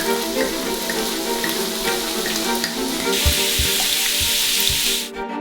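Loud, steady sizzling of champagne poured into a hot frying pan, a dense crackling hiss that continues throughout with a few soft clunks near the end.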